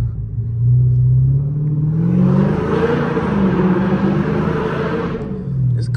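A Dodge Hellcat with no air intake revs hard while driving, a loud, close engine roar whose pitch climbs and wavers for several seconds before dropping away.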